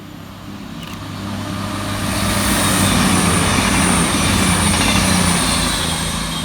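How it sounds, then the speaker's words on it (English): A CrossCountry class 221 unit, 221129, passes southbound through a suburban station, its rumble swelling into a steady loud roar with a sustained high whine and rattling wheels. "Next up, flying southbound for cross country is 221129"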